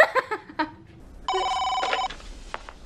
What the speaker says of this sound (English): Take a call.